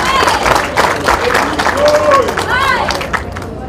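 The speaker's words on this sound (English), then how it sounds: "Clap for that." Crowd applause and cheering at a People Power political gathering in Uganda rise as dense, loud clapping mixed with shouts and whistles, with voices talking through the noise.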